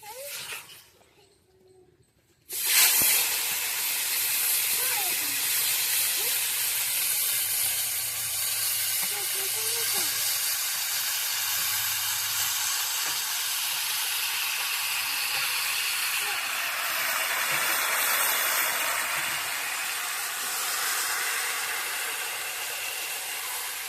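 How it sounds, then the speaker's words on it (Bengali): Spiced amudi fish hits a hot kadai for a potato and brinjal chochchori, breaking into a loud, continuous hiss and sizzle after a brief quiet moment, close and steady to the end. "আমরা এবার এই মাছটাকে কড়াইয়ে দিয়ে দেবো।"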